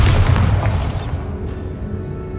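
A Bombarda spell explosion in Hogwarts Legacy: one loud, close booming blast that rolls off into a fading rumble within about two seconds, with no voices.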